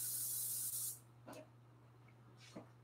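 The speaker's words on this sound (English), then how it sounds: "Now we're going to spray the parchment paper." Cooking spray from an aerosol can sprayed onto parchment paper at a kitchen sink, one sustained hissing burst close up, followed by quiet handling rustles.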